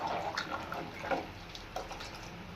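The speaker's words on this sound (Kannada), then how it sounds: "ನಾವು ಸ್ವಲ್ಪ ನೀರು ಹಾಕೊಂತೀವಿ ನೋಡಿ." Water is poured into a pot of egg curry (mottè sambar) already seasoned with salt and chicken masala powder, a soft continuous splashing and trickling at moderate distance with no talk.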